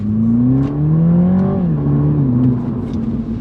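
A Toyota GR Supra 2.0 braking while driving, its engine drone close and steady inside the cabin, dropping in pitch midway as the car slows, then holding lower.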